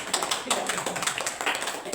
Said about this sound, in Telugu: ఒక్కసారి మనం చప్పట్ల ద్వారా ఆవిడకి కృతజ్ఞతలు తెలియజేద్దాం